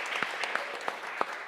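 Audience applause at a live event, a steady wash of many hands clapping with a few louder individual claps standing out, moderately loud and continuous throughout.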